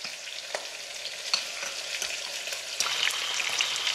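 Pork for cola braised pulled pork browns in a pan, a steady close sizzle with intermittent scraping taps as it is turned, the frying hiss rising louder toward the end, no speech.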